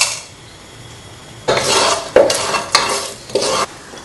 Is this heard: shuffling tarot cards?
no